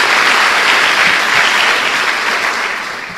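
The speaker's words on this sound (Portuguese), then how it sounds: "Dê uma salva de palmas ao Senhor" Congregation applause during a church worship service, a dense, steady wash of many hands clapping together, loud and close, with no talking over it and easing slightly toward the end.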